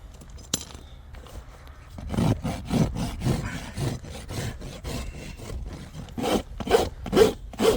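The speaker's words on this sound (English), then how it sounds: "I just rasp it in a little bit so I don't have to burn as much" A farrier rasps a horse's hoof wall and the toe of a bar shoe on a horse with a wire cut. After a faint start, a run of rhythmic, close scraping strokes follows, growing stronger toward the end.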